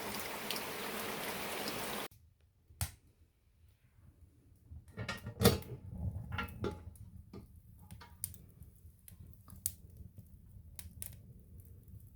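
Light rain ticking and dripping on surfaces, scattered drops tapping at irregular intervals after a brief rush of steady hiss.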